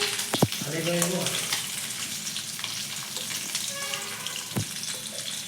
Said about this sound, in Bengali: আমাদের মাছ ভাজা হয়ে গেছে, এবার মা তুলে নিচ্ছে।